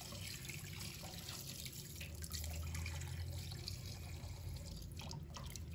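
Water poured into a pig intestine to turn it inside out while cleaning it, heard as a steady running trickle and splashing, close and fairly quiet, with no voice.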